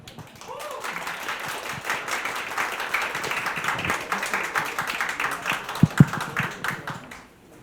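An audience at a spring regional studies seminar in a cultural garden claps to welcome a speaker, a sustained crowd patter that swells and holds for several seconds before fading, with a brief voice near the start.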